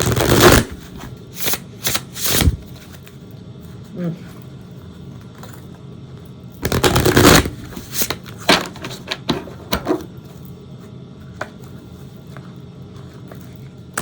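Bursts of tarot cards being shuffled, riffled and tapped in short clusters separated by quiet pauses, close up.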